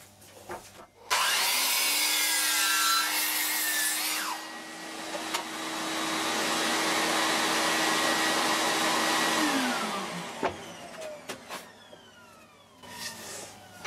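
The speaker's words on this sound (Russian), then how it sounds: "отторцую на торцовочной пиле." A miter saw whirs up to full speed, bites through a wooden board with a loud, sustained grinding crosscut, then winds down, followed by a few knocks and clatters.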